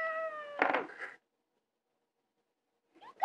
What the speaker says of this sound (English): You sent away my cat.